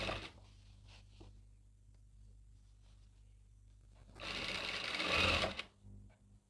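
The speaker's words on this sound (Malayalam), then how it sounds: "ജസ്റ്റ് ഒന്ന് മടക്കി ഇങ്ങനെ തയ്ക്കണം" Sewing machine stitching a folded petticoat hem, with a few faint taps, then a single close whirring run of about a second and a half that stops abruptly in a quiet room.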